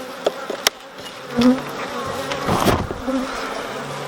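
Honey bees buzz around an open beehive with frames full of honey and brood, and close individual bees drone past among scattered light knocks and handling sounds.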